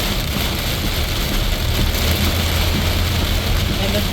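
Heavy thunderstorm rain pours steadily over a moving car, a dense constant wash of hiss with a low engine rumble beneath, loud and unbroken throughout.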